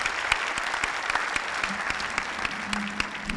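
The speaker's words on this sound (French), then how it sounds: "Voilà, on peut applaudir." An audience claps steadily for a few seconds, with sharp individual claps standing out from a dense, even round of applause.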